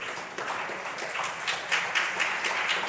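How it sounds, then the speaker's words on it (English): Steady applause from an audience at an official launch event for a Nigerian gender programme, a sustained wash of many hands clapping at moderate volume with no speech over it. "Please encourage her with a round of applause"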